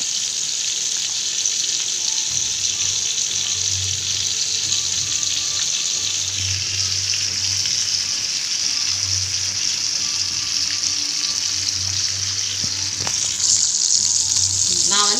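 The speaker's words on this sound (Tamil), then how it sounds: "என் பொண்ணு தான் மீன் பொரிக்கிறா" Steady, loud sizzling of masala-marinated fish frying in hot oil, a continuous crackling hiss with a faint low hum underneath and no talking.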